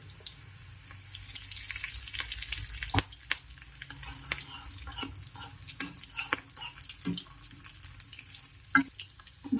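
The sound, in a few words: frying dried tunkalu with green chillies in a pan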